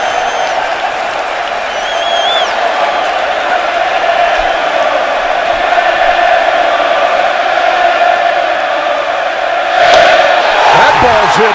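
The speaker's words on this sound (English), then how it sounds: "Loudest standing room only crowd trying to get under Johnny Cueto's skin" A packed standing-room-only baseball crowd jeers pitcher Johnny Cueto, a loud, sustained roar of voices and whistles that stays dense throughout and surges near the end, with a play-by-play announcer talking over it.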